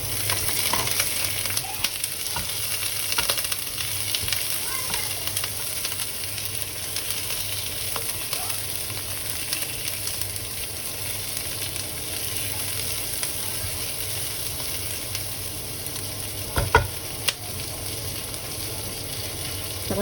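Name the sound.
shrimp frying in a pan with vegetables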